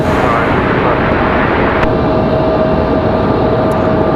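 An American Airlines A319 takes off from runway 23 left at Raleigh-Durham International, a loud, steady broadband jet roar that holds evenly throughout, close and continuous with a faint tonal whine running through it.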